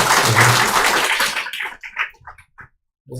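A church congregation applauds to welcome Chinese students, a dense burst of clapping that fills the first second and a half, then breaks into scattered claps and fades out toward the end.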